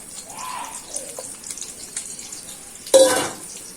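Half an onion drops into a hot wok in a sudden burst of sizzling, preceded by faint clinks and kitchen handling noise.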